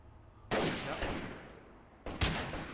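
Gunfire in the game Freeman: Guerrilla Warfare, two loud, sharp shots with broad echoing decay, the second coming as a quick double burst about one and a half seconds after the first, with no talking.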